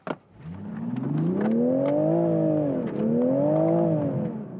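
A 2022 Toyota GR Supra 3.0 pulls steadily on the road, its engine note rising smoothly through a gear, dipping at a shift, then climbing again, heard from inside at moderate loudness.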